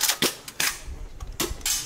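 An airsoft replica gun fires several sharp, close cracks in quick irregular succession, each a short snap with a brief tail, loud and with no talking.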